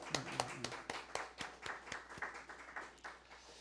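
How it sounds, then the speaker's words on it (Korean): Audience at a Korean church thanksgiving service for a literary anthology clap for an elder, a dozen or so distinct, fairly sparse claps in loose rhythm, close and clear, fading slightly toward the end. "박수 한번 하십시다"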